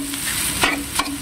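Ground meat fries in a pan as a spatula stirs it, making a bright continuous sizzle with two quick scraping strokes close up.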